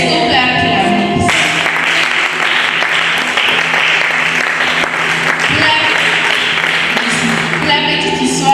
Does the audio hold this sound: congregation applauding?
yes